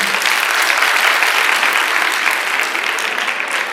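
Loud, steady applause from an audience at a Basant Panchami college celebration, a dense wash of clapping that holds for several seconds and tapers only slightly toward the end.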